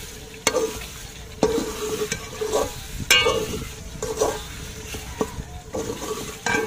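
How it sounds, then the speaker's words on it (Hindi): Chicken frying in masala in a pan, stirred with regular scraping strokes over a constant sizzle, close up and fairly loud with no talking. "मिक्स करने के बाद 5 से 6 मिनट तक हम चिकन को भूनेंगे"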